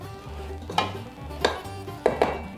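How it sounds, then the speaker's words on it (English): Brownie batter spread in a pan with a utensil, three or four distinct scraping clinks against the pan bottom spaced about half a second apart over a low steady hum, close and without talk. "kind of spread out the mix a little bit in the pan, in the bottom of the pan"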